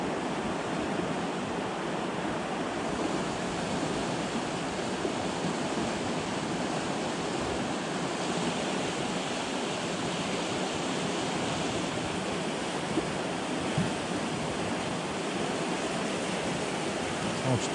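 A fast, shallow river current rushes in a steady, dense roar for the whole stretch, close and loud with no breaks, like broad white-noise flow over stones.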